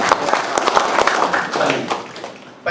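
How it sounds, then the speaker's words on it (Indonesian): An audience at a political gathering breaks into scattered clapping, uneven and crowd-like, with some background voices mixed in. "Kita kasih apresiasi tepuk tangan."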